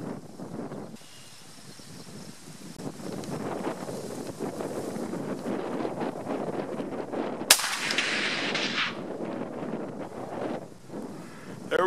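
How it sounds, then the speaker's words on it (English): A single sharp, loud shot from a Remington Model 700 Ultimate muzzleloader firing Parker Match Hunter bullets cracks out midway through steady outdoor wind buffeting from a gusty crosswind. "This will be our fourth and final shot."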